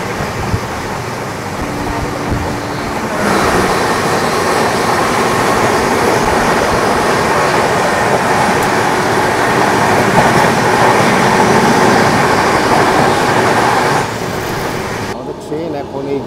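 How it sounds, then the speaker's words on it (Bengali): The 12863 SMVT Bengaluru SF Express rolls into Vizianagaram station, heard from on board as a loud, steady rail rumble that swells after a few seconds and holds before easing near the end. "ট্রেন এখন এই ভিজিয়ানা গ্রাম স্টেশনে ঢুকছে।"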